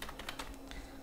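Quick keystrokes on a computer keyboard while typing Flutter code, a short run of soft close taps in an uneven rhythm.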